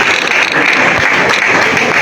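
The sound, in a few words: applause for the fashion technology team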